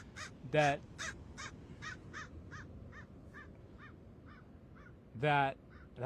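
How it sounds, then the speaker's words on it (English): A crow caws outdoors, with two loud, harsh calls near the start and end and a run of fainter, evenly spaced caws between them, heard over a quiet background. "crow wanted to make himself known"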